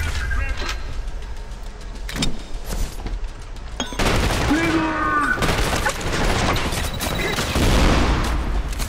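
Gunfire and grenade blasts in the shooter game Trepang2, dense overlapping shots with heavy low booms, loudest in a burst around the middle and continuing steadily, with faint game effects mixed in.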